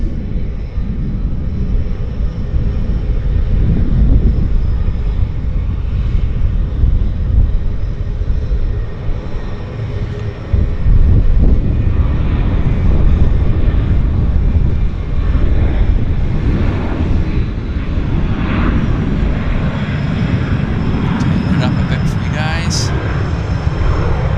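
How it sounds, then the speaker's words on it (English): A WestJet airliner on its takeoff roll at Vancouver YVR airport, a loud, steady engine roar and rumble sustained throughout, swelling slightly midway, with speech at times over it. "We've got a WestJet on the roll"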